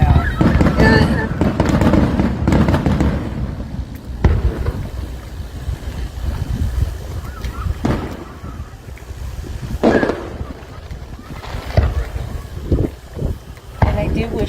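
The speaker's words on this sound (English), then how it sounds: "I do wish they'd make fireworks without those bangs" Fireworks bursting over water, a series of irregular booming bangs scattered through the stretch amid wind noise, with people talking between the blasts.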